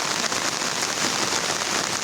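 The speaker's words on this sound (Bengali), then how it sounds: "রাত থেকে বৃষ্টি হইতেছে একাধারে" Heavy rain that has fallen all night keeps pouring down, a dense, loud, unbroken roar of drops hitting surfaces nearby with no voices.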